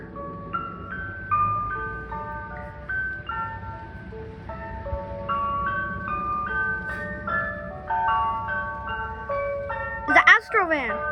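A white Chevy Astro van ice cream truck plays a repeating chime melody nearby, steady tinkling notes over low engine noise, with voices breaking in near the end.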